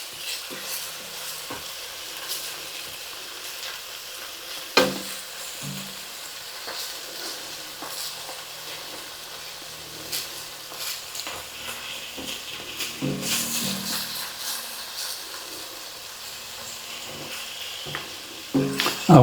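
Garlic stirred in a hot frying pan for tomato and rice soup, steady close sizzling with scattered scrapes and clinks of the spoon, a louder clatter near the end, no voices.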